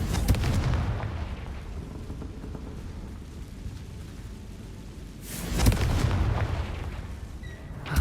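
Confringo fire spell blasts in the video game Hogwarts Legacy, heavy booming explosions with rumbling thunder-like tails, one loud burst at the start and another swelling blast near the end, no talking.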